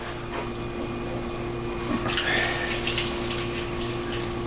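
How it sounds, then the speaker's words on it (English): Water poured into a pot of homemade baked beans, a soft trickle that swells into a fuller splashing pour about halfway through, moderately close beneath a steady background hum, with no talking. "So we're going to dump some water in here."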